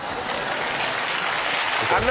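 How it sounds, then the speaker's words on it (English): A studio audience at a televised debate breaks into steady, dense applause, a continuous wash of clapping that stays level for a couple of seconds. "Your audience, which will clap apparently anything, is frivolous"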